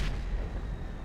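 A sniper rifle shot rings out in a Rocket League-style Voltic challenge game, one sharp booming report at the start that rolls into a dense, rumbling low wash lasting about a second.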